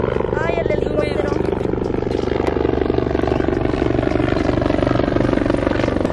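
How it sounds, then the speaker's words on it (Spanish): A helicopter flies overhead, its rhythmic rotor chop and engine roar filling the scene continuously and loudly, with a person speaking briefly over it at the start. "Ay, el helicóptero."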